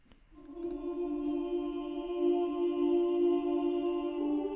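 A soft choir sings a sustained "oo" vowel, swelling in gently and holding a steady, smooth chord with no words.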